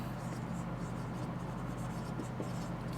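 Quiet, continuous scratching of writing on a board during a chemistry lesson on group 18 elements.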